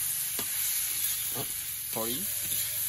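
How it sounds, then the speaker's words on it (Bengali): Ash gourd cooking with fish head in a pan, a steady low sizzle broken by a few short scraping stirs of a spatula. "চাল কুমড়ো রান্না হচ্ছে, চাল কুমড়ো ঘন্ট মাছের মাথা দিয়ে"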